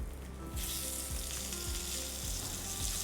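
Steady, loud sizzling of tomatoes frying in hot oil with asafoetida and whole garlic, with a broad hiss that swells after a brief quieter start and continues throughout.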